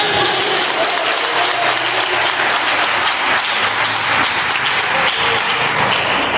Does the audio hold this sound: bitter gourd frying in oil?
no